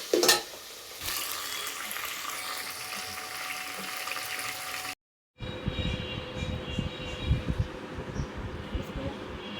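Ginger-garlic paste and chicken sizzle and fry in a pan, a steady hiss with stirring scrapes; a sharp clatter opens, and a brief silence splits the sound before the sizzling returns with more stirring.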